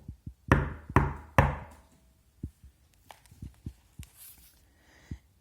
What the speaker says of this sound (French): on frappa à la porte